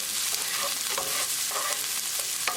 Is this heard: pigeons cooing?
no